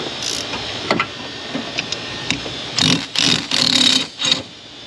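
A power tool backs out torque mount bolts on a 2003 Chevy Monte Carlo 3.8 in a garage. A few light clicks come first, then several short, loud whirring bursts close by.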